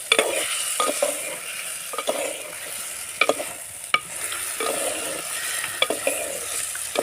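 Brinjal curry simmering in a pan while a spoon stirs it, soft sizzling broken by repeated sharp scrapes and taps against the pan, close and steady, no voices.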